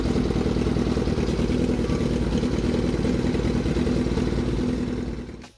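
Yamaha R6 sport bike with an inline-four engine, fitted with a loud shorty exhaust and an underbelly pipe, running with a harsh, steady, close-up rumble and clatter that cuts off at the end.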